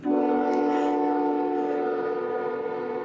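A train passes close by a warehouse, its horn sounding a loud, sustained multi-tone blast that holds steady for the whole stretch with rumbling underneath.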